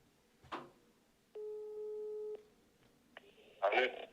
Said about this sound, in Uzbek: Сейчас наши модераторы звонят, передадут нам трубочку